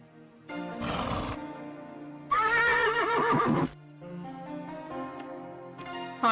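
A horse in the 1994 video game Little Big Adventure neighs and whinnies in two loud, drawn-out calls separated by a short pause, over a steady game music background with no talk.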